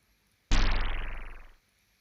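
A single percussion hit from Logic Pro's stock drum synth bursts in sharply, with a bright noisy attack and a fluttering tail that decays over about a second before silence.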